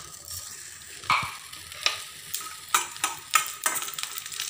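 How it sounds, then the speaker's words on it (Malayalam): Cashew nuts frying in a teaspoon of ghee for a festival ada sweet, with a steady soft sizzle broken by several sharp clicks and scrapes of a spoon stirring the pan, close and alone. "ഈ അണ്ടിപ്പരിപ്പ് ഈ നെയ്യിൽ ഞാനൊന്ന് വറുത്ത് കോരാൻ പോവുകയാണ്"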